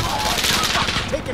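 Sustained heavy automatic gunfire in a video game battle, a dense continuous barrage of rapid shots that stays loud throughout, with players talking over it.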